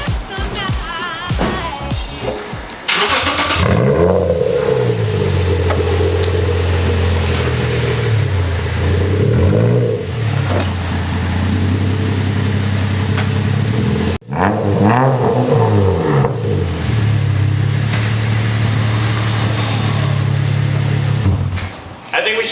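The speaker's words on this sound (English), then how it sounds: "you guys haven't heard this exhaust yet. It's actually quieter than the previous one, but it sounds a lot better, so I'm going to start it up for you guys." A Subaru Outback fitted with a blast pipe exhaust cranks and starts, then idles with a deep rumble and is revved several times, the exhaust note rising and falling loud and close.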